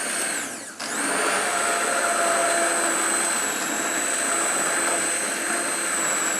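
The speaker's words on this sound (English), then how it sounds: "So I'm going to use the electric whisk." An electric whisk whirs steadily as it mixes pancake batter, a loud, continuous motor drone that dips briefly near the start and then runs evenly throughout.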